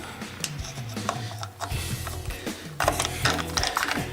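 Clamp being tightened in a T-track on a woodworking shaper table, heard as a close series of ratcheting clicks and grinding mechanical turns with short pauses between, loud and unaccompanied by talk.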